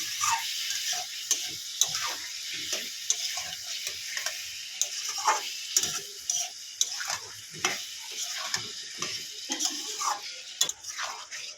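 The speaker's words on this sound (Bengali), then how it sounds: "অল্প একটু জল দিয়ে দেবো দিয়ে ভালো করে কষিয়ে নেব" Spice masala with Kashmiri chilli and a splash of water stirred and fried in a pan for rohu fish curry: a steady close sizzle broken by repeated scraping stir strokes, with no talk.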